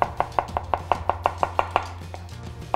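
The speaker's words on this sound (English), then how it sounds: "I chop it finely, like this." A knife finely chops beetroot on a board in about fourteen quick, evenly spaced, crisp taps, close and clear with a faint hum behind.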